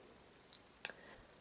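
A camera shutter fires in a single quick, faint click, preceded by a brief soft electronic beep, against quiet room hiss.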